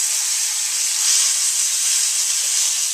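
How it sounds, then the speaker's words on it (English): Seared venison for a deer Wellington hissing in a hot pan, a dense steady sizzle that holds level and close throughout with no talk. "Now we got a good sear on that all the way around."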